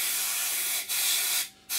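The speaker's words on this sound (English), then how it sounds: "All we're going to do now with this lighter colour is just generally spray in between some of the panels" Airbrush spraying a lighter paint colour between panels on a model Seafire wing: a steady close hiss of atomised air and paint, briefly dipping and then cutting out for a moment before resuming.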